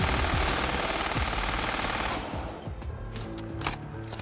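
A German MG-42 machine gun fires a dense, continuous burst at a very high rate, loud and close for about two seconds, then drops away into echoing reverberation and a few scattered later shots.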